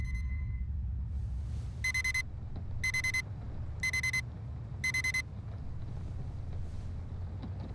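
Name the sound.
alarm clock ringing in video game Radiant One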